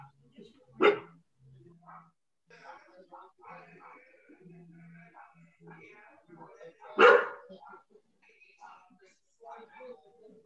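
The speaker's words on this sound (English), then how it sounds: "No, I think that's somebody else's dog." Two loud, sharp barks from a dog somewhere else, several seconds apart, cut through a video call where people keep talking quietly in between.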